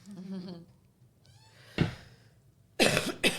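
Two or three sharp coughs burst out near the end, loud and close, after a moment of voice and quiet.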